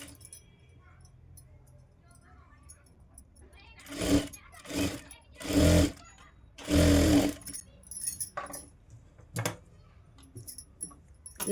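A sewing machine stitching a blouse cross belt runs in several short loud bursts, about four clustered in the middle, with quiet pauses and small handling clicks between them.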